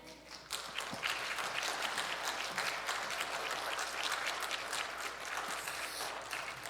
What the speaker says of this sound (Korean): 뭐 박수까지 치시느라고요.